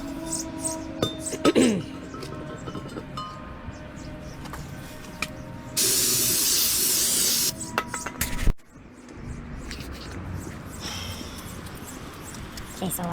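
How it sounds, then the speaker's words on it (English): A steady hiss of aerosol spray bursts out for about two seconds midway, surrounded by clinks and handling noises, during a re-seal of an R154 transmission. "I'm just gonna spray around it"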